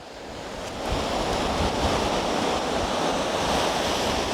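Ocean surf at high tide rushes in steadily and loudly, a broad roar of breaking waves with wind buffeting the microphone and no voices.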